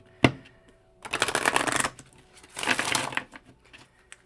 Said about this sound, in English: first we are going to do a quick shuffle here